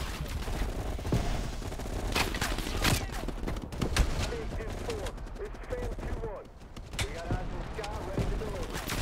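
Dense gunfire and grenade blasts in Call of Duty: Black Ops Cold War, volleys of close shots and thuds crowding together, with voices talking over the combat.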